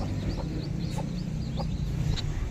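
A hen clucks repeatedly in short, evenly spaced calls, moderately close, over a steady rumbling background.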